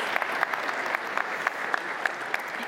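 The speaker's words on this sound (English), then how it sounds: "Yes, that does deserve a round of applause." A keynote audience breaks into sustained applause, a full, even wash of many hands clapping throughout, heard up close without speech.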